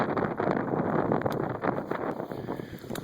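Wind gusts over a frozen Minnesota lake, buffeting the microphone in a steady, rough rumble that swells and eases, close and fairly loud, with no voices.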